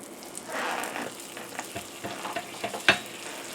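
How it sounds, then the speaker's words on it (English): Buttered bread goes butter side down into a cast iron skillet and sizzles softly. Light scrapes follow, then a sharp metallic clink near the end. "we'll put that butter side down in the pan"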